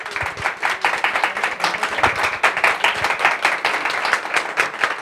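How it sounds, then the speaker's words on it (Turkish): Sustained audience applause fills an award ceremony held at an office in Istanbul, dense clapping from a crowd continuing steadily throughout without a break. "Alkışlarla uğurlayalım."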